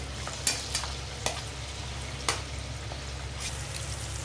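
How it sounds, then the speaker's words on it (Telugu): Onions frying in oil with a pinch of turmeric in a pan on the stove, a soft steady sizzle broken by a few sharp stirring clacks, close and alone without voices. "ఆనియన్స్ వేగాలండి"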